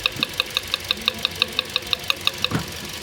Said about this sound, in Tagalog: Lakas ng lagitik.